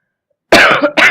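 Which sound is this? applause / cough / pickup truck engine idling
cough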